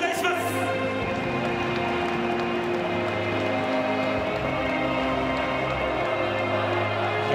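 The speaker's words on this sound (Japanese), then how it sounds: "大きな拍手をお願いします。" A large stadium crowd applauds and cheers as Vissel Kobe are presented as 2023 J1 League champions, a dense, steady roar of clapping and voices filling the whole stretch at high volume.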